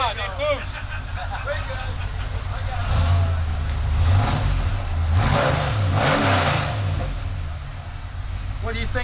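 A supercharged engine with its blower engaged revs loudly and steadily at a SEMA show, surging in a couple of swells through the middle of the clip while people talk over it.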